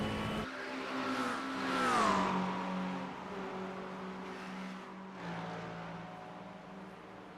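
A McLaren GT3 race car in a Le Mans 24-hour racing game holds a sustained engine note that climbs and dips through gear changes, steady and fairly close, with a second car's drone passing behind it.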